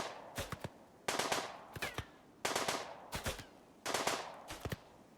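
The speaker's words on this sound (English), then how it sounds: "While he starts shooting at the pirates' defenses" Repeated bursts of automatic gunfire from a RimWorld desert raid on pirate defenses, arriving in sharp clustered volleys roughly every second or so, loud and close with no talking.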